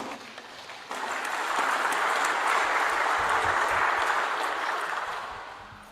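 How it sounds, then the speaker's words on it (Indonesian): Crowd applause at a political party declaration rally in Indonesia, a dense roar of clapping swelling after the first second, holding loud, then fading slightly at the end. "Tepuk tangan untuk kita semua."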